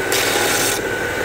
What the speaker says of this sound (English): I'm going to come over to the belt sander to give them a deburr.